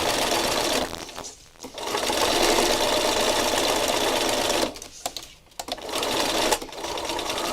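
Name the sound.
sewing machine stitching rows on painted fabric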